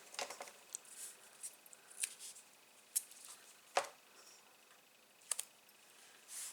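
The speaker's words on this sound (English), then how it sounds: "So I need a wee bit of tape." A small piece of tape torn from a roll for a card-making album project, heard as a few quick, sharp snips and rips with quiet gaps between them, close and without speech.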